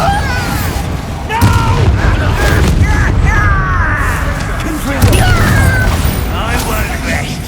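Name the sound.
Confringo and Bombardo blast spells, Hogwarts Legacy video game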